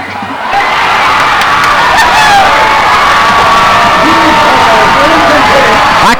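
Spectators at a 2005 high school football game, Barnesville vs Monroe Central, roar and shout loudly and continuously, with a swell of crowd noise that holds for several seconds.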